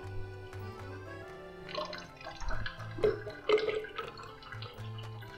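Water splashes and drips in short bursts as soaking water is drained off soaked cashews, heard beneath steady background music.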